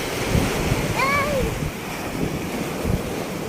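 Strong surf rolling in at a beach resort, a steady broadband wash with some wind buffeting the microphone, continuous and fairly close, with a brief voice-like call partway through.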